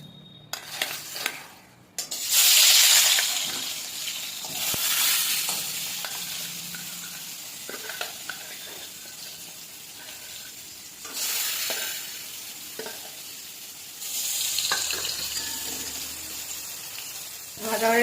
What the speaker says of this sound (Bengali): মাছ কাটা ভেজে নেব